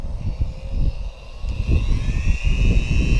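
A rotary tool spins while polishing a gun's feed ramp, a steady high whine with rising and shifting pitch over a low rumbling, scraping texture, close and fairly loud without speech.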